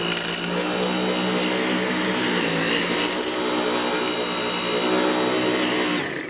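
A Dyson V8 Total Clean cordless vacuum runs in a steady, loud, high-pitched whine with a dense motor hum while cleaning along a front edge, cutting off abruptly at the end.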